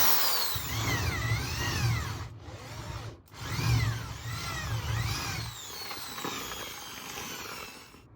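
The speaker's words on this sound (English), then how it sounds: "Before you do a blind hole drilling on the other side, I'll always advise keeping another piece of wood below" A power drill bores a blind hole into a wooden board resting on a scrap piece of wood. The motor whines steadily and close, its pitch swelling and dipping, with two brief pauses early on.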